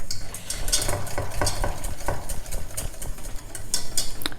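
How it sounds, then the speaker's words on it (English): A sauce for a malva pudding milk tart whisked vigorously in a pan as it thickens, giving fast, continuous metallic scraping and clicking strokes with a light sizzle underneath, close and steady throughout. "this is the time to vigorously, and I mean vigorously,"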